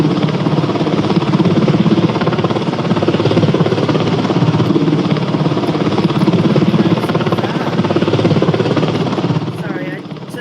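Several helicopters hovering over a rescue operation pulling cars from water, a dense, steady rotor thrum and engine roar throughout, loud and continuous before easing slightly at the end.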